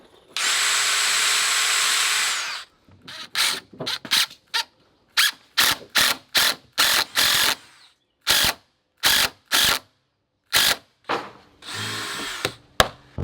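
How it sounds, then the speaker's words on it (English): A power drill drives a screw through a board into framing while building an outdoor backyard bar: one long steady whir, then a run of short, loud bursts and pulses as the screw is driven home, close up with no voices. "So I'm gonna screw through this board into here."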